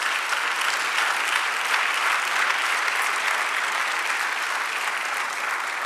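A church congregation claps steadily in praise during a sermon, a dense, even wash of applause with no break.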